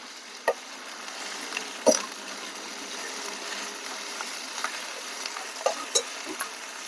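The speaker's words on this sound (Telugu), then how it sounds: "1 స్పూన్ అల్లం వెల్లుల్లి పేస్ట్ వేసుకొని పచ్చివాసన పోయేదాకా వేయించుకున్నాం" Ginger garlic paste, one spoonful, frying in a pan for a village-style egg pulusu curry, a soft steady sizzle with a few sharp clicks and stirring taps scattered through, close and fairly quiet.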